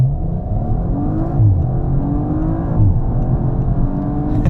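An Audi RS5 in RS mode launching hard from a standstill, its engine roaring loud and close from inside the cabin, pitch climbing steadily through the revs with brief dips at gear changes, no talking.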